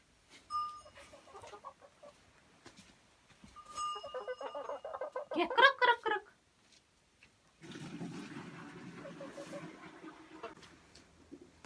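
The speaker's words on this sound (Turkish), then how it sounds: "Burada tavuklar var. Tavuk. Bakın. Et tavukları." Broiler chickens on a farm cluck and squawk in bursts, fairly faint, with gaps of near silence and a steadier broadband rustle of the flock toward the end.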